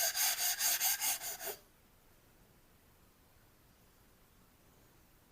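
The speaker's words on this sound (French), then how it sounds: "on va casser les angles ici pour éviter tout risque d'endommager le couteau" A Naniwa Super Stone water stone has its edges chamfered with about eight quick, rhythmic rasping strokes, followed by near silence.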